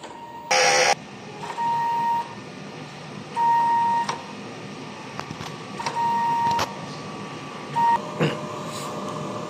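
A DTF printer runs a print head cleaning cycle, with a close mechanical pump and carriage whir broken by several short electronic beeps and steady tones at intervals, and no talking.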